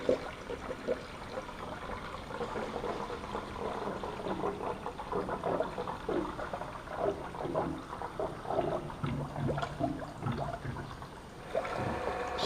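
Fluid trickles and gurgles steadily through a spill-free funnel into a race car's system, with a low continuous pouring wash and small irregular splashes throughout, no voices.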